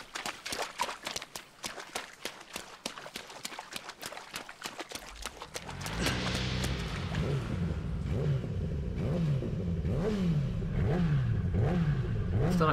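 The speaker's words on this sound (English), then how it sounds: "Oh no, that's a motorcycle, okay." A motorcycle engine from the video game Yakuza 0 revs up loudly after a stretch of rhythmic footstep-like thumps, its pitch rising and falling repeatedly in sustained, close, continuous bursts with no talk over it.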